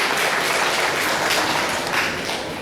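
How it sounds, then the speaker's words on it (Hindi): An audience at a legal awareness program and certificate ceremony for P.G.D.A.V. College (Evening) breaks into steady, dense applause, a loud sustained patter of many hands that tapers slightly toward the end. "एक तालियां इनके लिए बनती हैं।"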